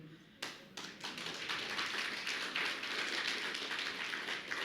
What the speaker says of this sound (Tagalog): Hindi lang yan ang palakpak na para sa napakalaki at napakabuting Diyos.